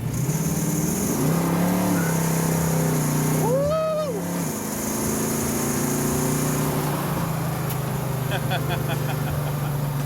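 A 1970 Ford Mustang with a 428ci V8 rolls into the throttle on a test drive, its engine a steady, moderately loud drone that briefly swells in pitch before settling, with voices from the occupants.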